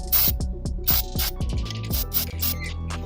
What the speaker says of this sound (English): Some lithium grease will be sprayed on here